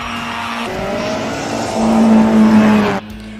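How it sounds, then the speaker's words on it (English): A race car launches off the line at the Simola Hillclimb, its engine loud and close, rising in pitch as it revs through the run before cutting off abruptly near the end. "Let's see what kind of launch he does off the line."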